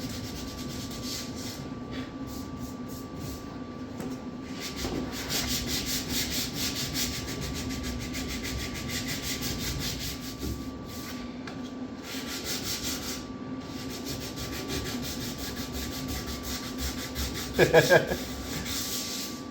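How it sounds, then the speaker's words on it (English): Steady back-and-forth sanding of body filler on a Chevrolet C10 pickup truck's dent repair continues at length, a gritty rasping rhythm with a brief louder knock near the end. "Your sanding's like rocking the truck"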